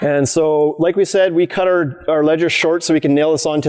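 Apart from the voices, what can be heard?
No everyday noises stand out.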